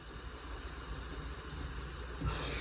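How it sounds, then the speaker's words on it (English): A steam iron presses fusible bonding tape onto a trouser hem, giving a steady broadband hiss that swells louder into a stronger burst of steam near the end, with no talking. "you're going to go ahead and steam press that to bond that bonding to the pant leg like that"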